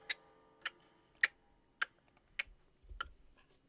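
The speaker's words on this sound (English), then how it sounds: "Tick-tock." A clock in the video game Metaphor: ReFantazio ticks six times at an even, unhurried pace. Each click is crisp and isolated against near-silence, with a faint low thump toward the end.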